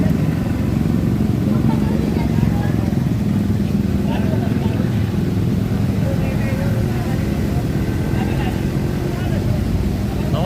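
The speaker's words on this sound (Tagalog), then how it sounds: "hindi makakadaan tong tricycle na to" A motorized tricycle's engine drones steadily as it drives through a flooded street in heavy rain, a constant, fairly loud rumble with voices talking over it.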